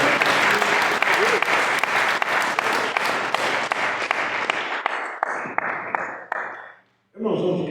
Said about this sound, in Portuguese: As palmas que louvam a Deus.